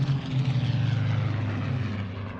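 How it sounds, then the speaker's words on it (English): Supermarine Spitfire fighter's propeller engine droning steadily as the aircraft passes, a loud, throaty roar with a low pulsing rumble that fades slightly toward the end, with no talking. "The Spitfire was built as an interceptor fighter."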